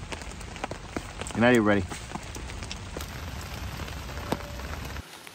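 Steady rain falls on a night campsite beside a dying campfire, a dense even patter filling the whole stretch, with someone briefly speaking over it before it cuts off near the end.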